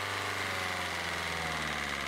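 A Citroen C4 engine runs at a steady idle just after starting, with a continuous, even mechanical hum and faint ticking, loud and close with no talk over it.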